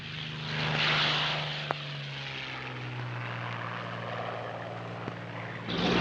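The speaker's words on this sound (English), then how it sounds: "aircraft which had been brought by ship from Britain and reassembled on the Rock were flown off to Tunisia" A WWII-era propeller aircraft, one of the planes shipped from Britain and reassembled at Gibraltar, drones steadily in flight with a continuous engine hum that swells slightly toward the end, heard through old film-soundtrack noise.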